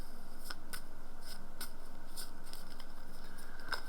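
Tarot cards being shuffled by hand: soft, steady papery riffling and rubbing with faint regular clicks, close and quiet, with no talking.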